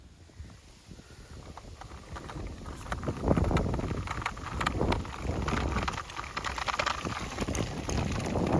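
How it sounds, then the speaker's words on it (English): Strong wind buffets the microphone in continuous rumbling gusts, swelling louder midway and staying rough and blustery throughout, with no voices. "It is very, very windy."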